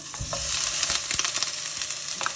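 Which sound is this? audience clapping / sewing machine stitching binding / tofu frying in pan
tofu frying in pan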